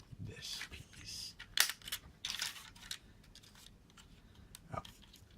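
Plastic pieces of a Generation Toy Green Shadow B mixing truck (Mixmaster) transforming figure being folded forward, giving a few close, sharp clicks and scraping snaps at irregular moments against a quiet background.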